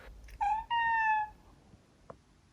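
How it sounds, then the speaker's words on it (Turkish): A house cat gives two clear meows in quick succession, the second longer with a steady drawn-out tone, close and alone, followed by a few faint clicks. "Karakterleri birbirinden zıt iki tane kedim var ve bu deney için harika adaylar olacaklar."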